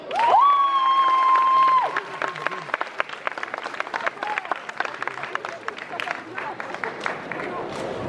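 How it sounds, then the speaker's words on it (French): Audience applause and scattered cheering at a cosplay contest during the JapaNantes 2021 convention, with dense clapping after a brief tonal sound at the start and fading into lighter, steady clapping. "le personnage de Myst, on l'applaudit."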